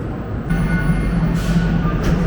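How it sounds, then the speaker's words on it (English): Santiago metro train heard from inside the car while riding, a steady loud rumble of wheels and motors with a high whine and faint squealing tones, no one talking. "Try out the metro from the inside."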